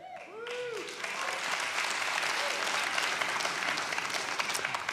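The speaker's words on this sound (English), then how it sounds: "Oh, you shouldn't clap." Audience applause in a church sanctuary rises quickly and continues as a dense, steady wash of clapping, loud and sustained throughout, with a brief voice at the very start.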